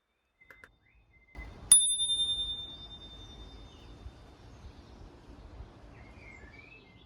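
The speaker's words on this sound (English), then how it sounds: "You can use the bell while you're holding the handle and the brake" A single bright ring of a bicycle bell on a Rad Wagon electric cargo bike, struck once and left to fade, after a couple of faint clicks, with low rumbling noise beneath.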